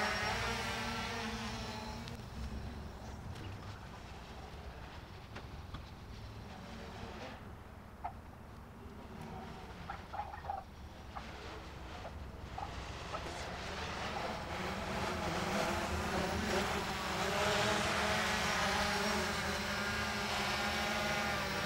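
A Yuneec Typhoon H hexacopter drone fitted with an Intel RealSense module flies with a constant, loud motor whine and propeller buzz that swells and eases as it moves around nearby.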